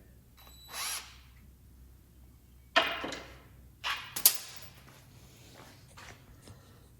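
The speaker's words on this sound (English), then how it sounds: "you gotta drill out the rest of the handle that was in there" A power drill bores out the broken old handle wood left in an axe head: a brief whir, then several short, harsh grinding bursts in a quiet space.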